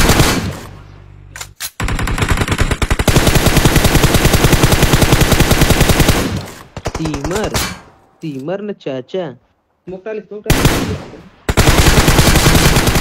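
Long bursts of rapid automatic gunfire in PUBG Mobile roar loudly, broken by short pauses, while a voice briefly speaks between bursts.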